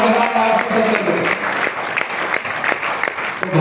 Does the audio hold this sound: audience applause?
yes